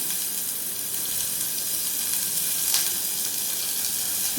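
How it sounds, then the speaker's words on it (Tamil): Pan of chopped vegetables and onion sautéing in hot oil with mustard seeds and urad dal, a loud steady close sizzle with a faint clink of stirring and no talk. "கடுகு உளுந்து தாளித்து வந்தோன்னே போட்டுக்கிறோம் அதை நல்லா வதக்கி கொடுத்துட்றோம்"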